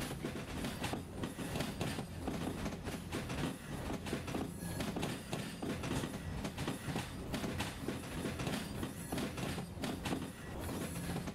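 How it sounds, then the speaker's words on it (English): A train in the Derail Valley video game rolls steadily along the track, with a continuous loud rumble and rhythmic clickety-clack of wheels over rail joints throughout. "train is coming."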